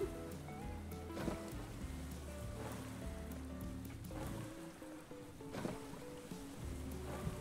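A boat crosses rough, bumpy ocean waves in the survival game Stranded Deep, with a continuous wash of water and rolling surf set against a low tonal background, and no talking.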